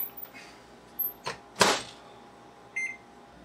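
A microwave door thuds shut with a few clicks, followed by a short electronic beep, close by in a quiet room with a faint hum.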